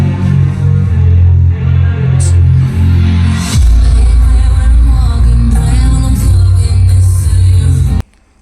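Deep pulsing bass thumps from the dual subwoofers of a GOVO GoSurround 900 soundbar, loud and sustained with a rhythmic beat over music, cutting off abruptly near the end.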